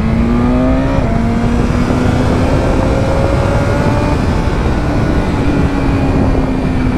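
BMW motorcycle accelerating hard on a race circuit, its engine whining upward through the gears with a dense, loud roar and rising pitch, recorded close with no talk.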